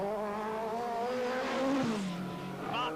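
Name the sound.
Lancia Delta rally car engine at Monte Carlo Rally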